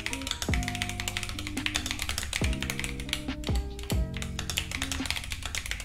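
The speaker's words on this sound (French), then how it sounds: "je vais écrire et voir la réactivité du Bluetooth" Fast typing on an Epomaker TH80 mechanical keyboard connected over Bluetooth, a dense run of close clicky keystrokes with a few heavier thocks mixed in, steady throughout without speech.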